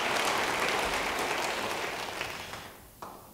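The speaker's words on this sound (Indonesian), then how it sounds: "Yang percaya beri tepuk tangan bagi dia." A church congregation applauding during a sermon, a broad, steady clapping that gradually tapers off and ends with a last few scattered claps.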